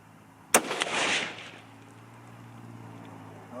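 A single rifle shot from a Christensen Arms MPR cracks sharply outdoors, followed by a brief echoing rumble and quiet ambience, with no talking.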